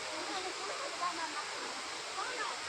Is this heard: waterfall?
yes